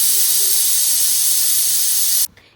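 A pressure cooker holding jackfruit lets out one loud, continuous steam whistle. The hiss holds steady for about two seconds, then cuts off abruptly, leaving a faint trailing rattle.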